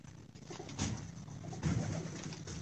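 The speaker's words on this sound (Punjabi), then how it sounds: "ਸਰ ਜੀ ਬਟੇਰੇ ਕਬੂਤਰ ਬਹੁਤ ਅੱਛੇ ਕਬੂਤਰ ਨੇ, ਕਾਰਕਰਦਗੀ ਵਾਲੇ ਕਬੂਤਰ ਹੈ" Pigeons, called bateray, cooing nearby, with a couple of low throaty coo phrases rising over a faint background hum.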